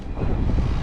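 Cold mountain wind buffeting the microphone on Ai-Petri in Crimea, a continuous loud low roar with gusty rumble, no talk.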